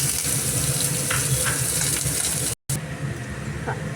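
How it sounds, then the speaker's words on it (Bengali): Small chopped potatoes fry in a wok over a spluttering mustard seed tempering, giving a loud, continuous close-up sizzle broken by one brief dropout. "যেই ফোড়নটা সর্ষেগুলো ফুটতে থাকবে তখন আমি কড়াতে দিয়ে দিচ্ছি একটু আলু"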